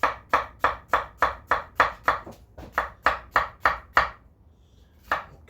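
A knife slices strawberries for a summer salad: about a dozen crisp, evenly spaced cuts against the board, then a short pause and one last cut, close and clear with no talking.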